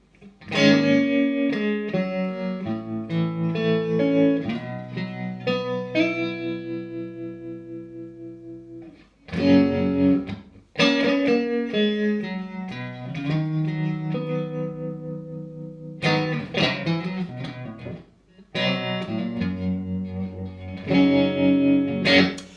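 A loud electric guitar plays phrases through a boosted Roger Mayer Voodoo Vibe pedal's warbling vibrato, notes pulsing and wobbling in pitch, with short pauses between passages.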